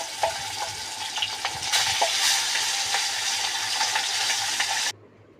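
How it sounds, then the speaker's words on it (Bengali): Fish fries in hot oil in a kadai with a loud, dense sizzle and a few crackles and spatters. The sizzle stops suddenly near the end, leaving quiet. "মাছ ভাজবো, মাছ দিয়ে দিচ্ছি।"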